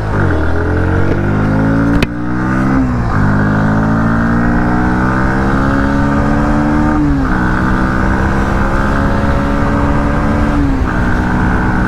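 A 2022 Bajaj Pulsar NS160 BS6 motorcycle accelerates hard, its engine note climbing and dropping through several gear shifts, loud and close with no one talking.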